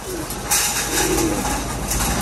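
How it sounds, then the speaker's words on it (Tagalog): Soft, low pigeon cooing, a couple of muffled calls over a steady wash of background noise. "iuwi natin yung mga kalapati doon"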